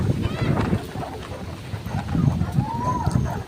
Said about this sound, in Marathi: वारा इतका सुटला आहे ना, तर आता पाऊस येण्याची शक्यता आहे